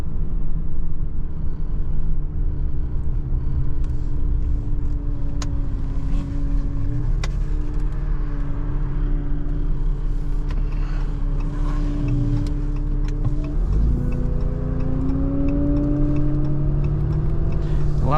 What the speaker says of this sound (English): Love the sound of this diesel engines